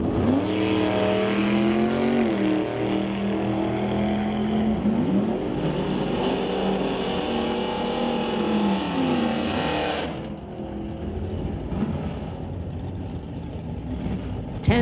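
A 1962 Chevy II and a 1968 Dodge Dart go down the drag strip side by side, engines roaring loudly with climbing revs for about ten seconds, then fading to distant rumble.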